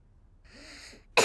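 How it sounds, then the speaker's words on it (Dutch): A cartoon piglet in Peppa Pig coughing during a pretend doctor visit: a soft drawn-in breath, then one sudden, loud cough burst cut off at the end. "even diep ademhalen en hoesten."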